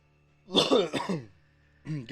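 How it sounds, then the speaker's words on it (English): A single person clears their throat and coughs up close, a few rough bursts followed by a short pause and then a further burst, with a steady low hum running underneath. "time for a cough there"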